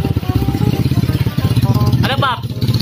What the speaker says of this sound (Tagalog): Tatakpan niya muna yung pipe para marinig niya yung makina.